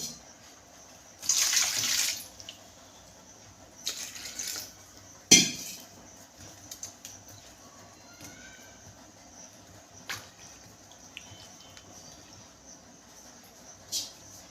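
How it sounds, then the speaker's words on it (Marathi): Raw mangoes are rinsed in water in a kitchen: quiet, intermittent splashes and trickles with a sharp knock in between and long near-silent gaps. "आता सगळ्या कैऱ्यांचा हा वरचा भाग मी काढून घेते आणि परत एकदा धुवून घेते"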